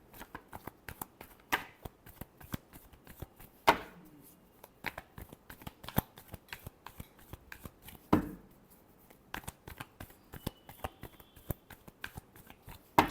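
Tarot cards being shuffled by hand, a quick run of crisp riffles and flutters with sharper snaps now and then, close and steady throughout with no voices.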